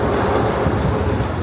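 Mine Train roller coaster ride at Magic Kingdom, heard as a steady loud rumble and rattle of the coaster cars on track, continuous with no talk.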